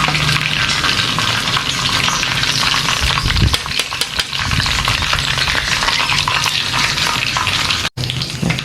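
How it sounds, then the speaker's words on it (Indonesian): Tofu sizzles and crackles steadily in hot oil, loud and close, with occasional stirring clatter. "sekarang goreng tahu"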